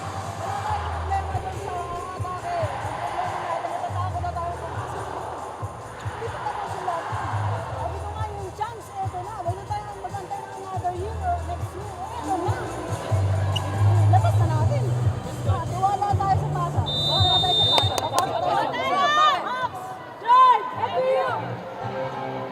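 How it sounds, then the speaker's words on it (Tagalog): Noisy spectators fill a volleyball arena during a La Salle vs. FEU match in the 2022 Shakey's Super League, a constant babble of yells and chatter that surges louder late on, with a voice talking over it. "sa ingay ng crowd dito, halos hindi natin marinig yung instructions ni Coach Tina Salak"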